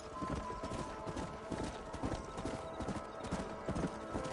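Horse hooves clip-clop in the video game Red Dead Redemption, a quiet, steady trotting rhythm of several horses with a faint whinny in the background.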